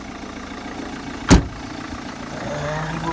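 A Vauxhall Astra 1.7 turbo diesel idles evenly just after a new starter motor has been fitted. A single sharp knock breaks the low engine drone partway through, and nobody speaks.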